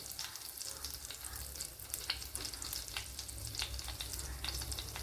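Fennel seeds and mustard seeds sizzle steadily in hot coconut oil, close and continuous, with crackling pops scattered through the frying.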